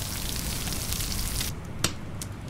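In the survival game Stranded Deep, food cooking over a fire gives a steady crackling sizzle that cuts off partway through, leaving only a few faint pops.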